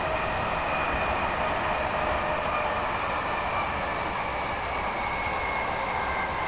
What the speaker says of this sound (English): The train has got fairly noisy.